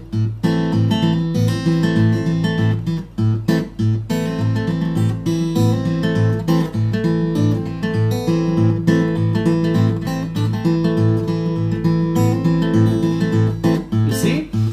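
Acoustic guitar Travis picking keeps steady, alternating ragtime bass notes thumping on every beat while melody notes are picked over the top, a dense, continuous pattern played close and loud with no voices.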